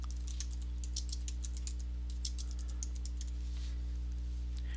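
Quiet, rapid keystrokes tap on a computer keyboard in short irregular bursts, faint and close over a low steady hum, with no voice.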